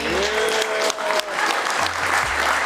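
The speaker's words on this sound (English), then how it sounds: "can we have a round of applause for this first part of the panel?" An audience at a Fan Expo Chicago 2024 celebrity panel gives a loud, sustained round of applause, a dense steady clatter of clapping that fills the room from start to finish.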